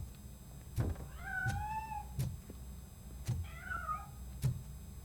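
Meows from a cat in the video game RoboCop Rogue City, two drawn-out, rising and falling cries spaced a couple of seconds apart, with periodic dull thumps recurring underneath.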